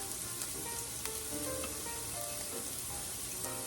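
Ginger hits hot oil in a pan while sautéing bottle gourd, giving a steady, dense sizzle with scattered crackles and pops, close and continuous with no talk.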